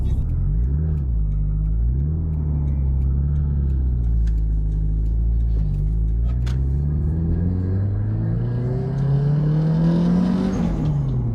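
A custom Subaru hatchback with a full bodykit drives with a loud, rumbling engine heard from close by. Its revs hold, dip, then climb steadily as it pulls, with no talk over it.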